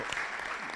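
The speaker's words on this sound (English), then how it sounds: "I think we need to clap hands for these guys." Audience applause at a cooperative annual gathering, a steady wash of many hands clapping at a fairly low level through the whole brief moment.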